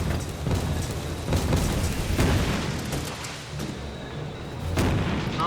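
Artillery firing in the video game War Front: Turning Point, with repeated heavy booms rolling over a constant rumble of battle, several blasts spaced a second or so apart.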